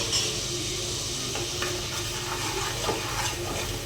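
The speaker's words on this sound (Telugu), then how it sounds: "ఇవి ఫ్రై అవ్వాలి ఎక్కువ అని ఏం లేదండి గోంగూర కాబట్టి ఎక్కువ ఫ్రై అవ్వాల్సిన పనే లేదు కొద్దిగా లైట్గా ఫ్రై అయితే చాలు" Gongura (sorrel leaves) frying lightly in a pan for a mutton curry: a steady, close, soft sizzle with faint scraping of a spatula stirring throughout, no voices.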